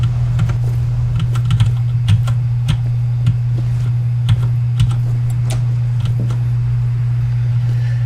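Fingers type on a Corsair K65 gaming keyboard, irregular crisp key clicks and taps close up over a constant low electrical hum, with no talking.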